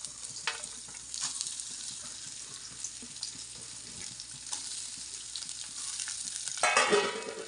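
Grated coconut fries in hot ghee in a pan, a soft steady sizzle with intermittent scraping stirs, swelling into a louder crackling burst near the end.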